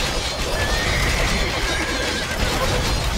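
Horses whinny in an Age of Empires II match, a rising call standing out over a dense, steady bed of battle noise and clatter.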